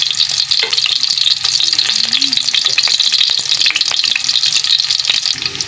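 Onions browning in a pan give off a loud, steady, close sizzle with crackling spatters and occasional stirring scrapes, unbroken throughout and with nobody speaking.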